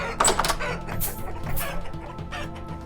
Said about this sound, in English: hen in here with the rooster, so he's got his own feed there, trough